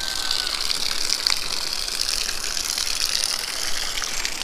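A river in Tanay, Rizal, swollen above its usual level, gushing steadily in a broad, continuous rush close by, with no talk over it.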